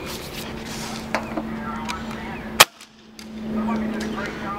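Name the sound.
Umarex H&K USP CO2 airsoft pistol firing 0.20 gram BBs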